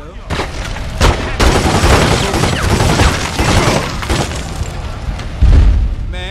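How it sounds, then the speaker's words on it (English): Rapid bursts of gunfire from The Godfather II video game, loud and dense, with repeated shots and booms over a continuous backdrop of game noise, with shouting voices mixed in. "I just shot him a thousand times"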